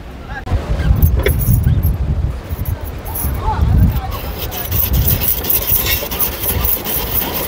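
A hand-pressed ice gola machine shaves a block of ice near Revdanda beach, giving a gritty rasping scrape that comes in bursts, with people talking nearby.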